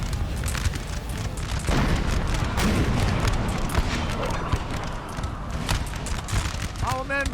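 Dense battlefield din from Napoleon Total War: continuous rumbling artillery and crackling musket volleys blend into a loud, steady roar with scattered booms throughout.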